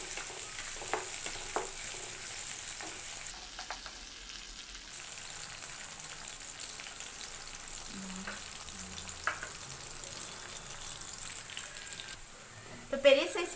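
Two green chillies sauté in a pan, a soft, quiet frying sizzle with occasional light stirring taps and a louder clatter of the utensil at the very end.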